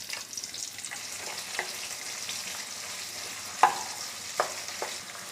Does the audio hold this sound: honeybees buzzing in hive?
no